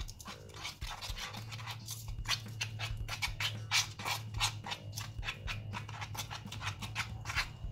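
Gold slime is stirred and mixed by hand, giving a quick, steady series of close, wet, sticky clicks and scraping strokes with a low hum beneath and no talking.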